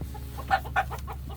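Hens, including ones laying blue-green eggs, give two short clucks close by over a low steady background hum, with faint softer chatter between them.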